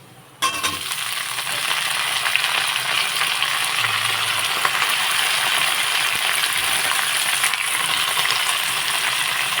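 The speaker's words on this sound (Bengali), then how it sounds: "লাল লাল করে ভাজা হয়ে গেছে, এখন কিন্তু আমি সব সবজিগুলো কিন্তু দিয়ে দেব।" Vegetables sizzling and frying in hot oil with onions already fried to a deep red-brown, a steady dense crackle running loud and close throughout after a brief quiet start, with faint stirring knocks.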